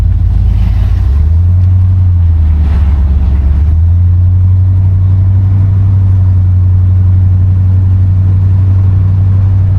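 A 1969 Buick Electra 225 that pulls to the left drives along, its engine a loud, steady low drone heard from inside the cabin, rising briefly in pitch near the start before settling into an even hum.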